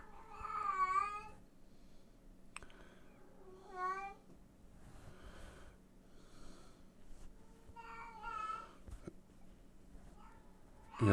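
A female cat in heat meows and caterwauls indoors in several drawn-out, wavering calls spread across the stretch, with quiet gaps and faint background noise between them.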